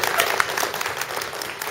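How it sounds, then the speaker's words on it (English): A round of applause rises from guests at a family party, steady close clapping filling a short stretch with a few voices mixed in. "A round of applause, please."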